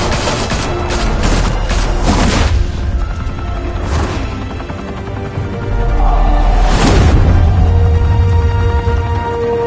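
Heavy gunfire in Batman The Telltale Series, a dense, loud fusillade of overlapping shots and booms that continues without pause throughout.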